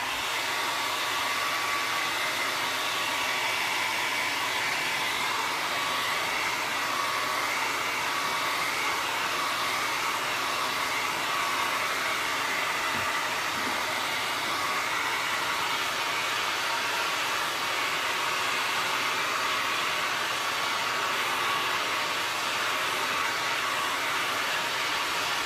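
Hair dryer drying a vinyl sticker on a chalkboard photo prop, a steady close, loud blowing hiss that runs unbroken for the whole stretch with no talk.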